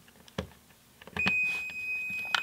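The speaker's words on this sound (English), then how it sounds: "If it beeps, you know it's good." A continuity tester's steady high-pitched electronic beep starts partway through and holds to the end, close by, with a few clicks and handling noises around it.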